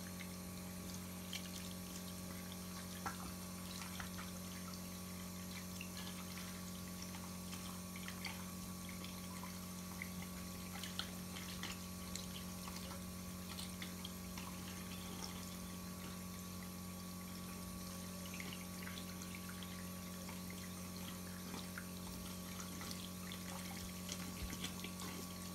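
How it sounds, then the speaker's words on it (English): Tap water runs steadily into a sink during handwashing, a faint, continuous hiss with a low pump-like hum underneath and no talking. "And then turn on the taps with two hands and just like soapy."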